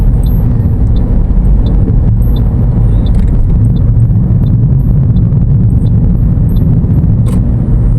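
Heavy road traffic on a busy provincial road in Thailand, a steady dense rumble of passing cars and engines close by without pause, with faint higher clinks scattered through.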